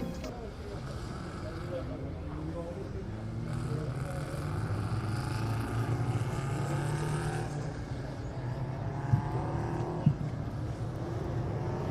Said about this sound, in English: GT Sports and Saloons. We're making their way onto the circuit now for the second time on the day.